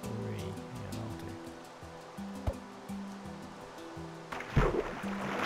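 Running water in Minecraft, a soft continuous trickle and gurgle layered under blocky game tones and a couple of brief thumps, with a louder splashing burst near the end.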